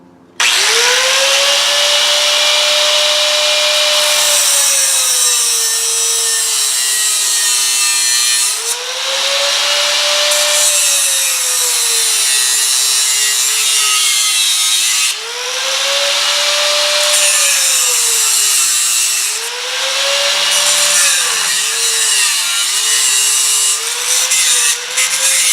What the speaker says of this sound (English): I'm just using a cut-off wheel.